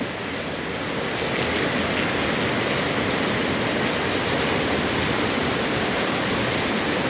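Heavy rain pours down steadily, a loud, dense, unbroken hiss of drops drumming on surfaces all around.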